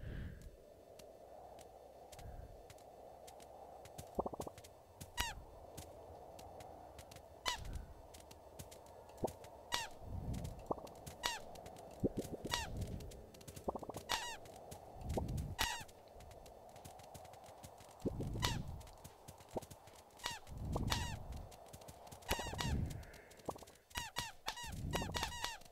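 Cartoon penguins squawking and squeaking during a penguin-herding minigame in the dating game Dream Daddy, a busy stream of short honks and squeaks in irregular bursts over game sounds, with no talk.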